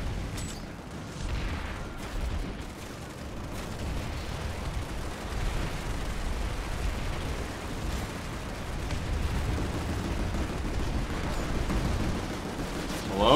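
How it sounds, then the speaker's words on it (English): Flail artillery bursts pound down in Planetside 2, a dense rumble of distant shell impacts and explosions rolling continuously under battlefield noise. "they got hit by two flail bursts"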